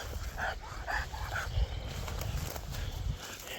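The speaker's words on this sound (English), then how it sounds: "You hear this crazy dog?" A dog runs around near an old train bridge in Keithsburg, with fast rhythmic patter and panting bursts close by, over an outdoor background and without speech.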